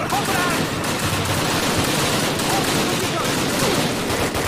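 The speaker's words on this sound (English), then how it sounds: "Machine guns. Machine guns." Dense, continuous machine gun fire in the Call of Duty video game, a steady loud rattle of overlapping bursts filling the whole stretch, with a voice faintly mixed in beneath.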